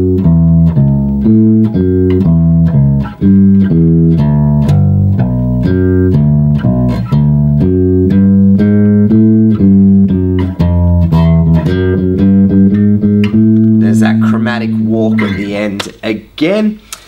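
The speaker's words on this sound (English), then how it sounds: "For the chorus, we're going to move towards some walking bass, and it will sound like this." Bass guitar plays a steady walking line for the chorus of a song, even plucked notes in a continuous rhythm, loud and close with no talking over it.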